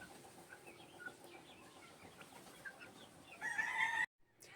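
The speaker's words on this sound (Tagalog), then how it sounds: "nagkakagulo na naman ang mga manok dahil gutom na" Hungry chickens on a gamefowl farm cluck and squawk in a restless chorus, with a louder burst of calls near the end before a sudden cut to near silence.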